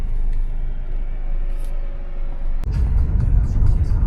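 A taxi car rolls into a residential courtyard in Dnipro, a low engine rumble heard from inside the cabin that swells into a heavier, louder rumble after a brief click.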